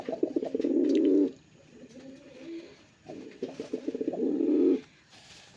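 Domestic pigeons coo close by in two clear bursts of throaty, rolling calls separated by a quieter stretch of softer cooing.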